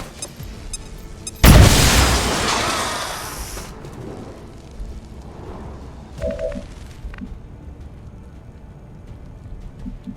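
A grenade explodes in XCOM 2 with a sudden loud boom and crackling debris that decays over a couple of seconds, followed by quieter clatter and faint ambient game sounds.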